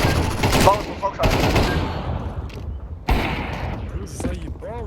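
Rapid bursts of automatic gunfire in a multiplayer shooter video game, loud and close, with clusters of shots separated by short gaps and a player's voice talking over the action.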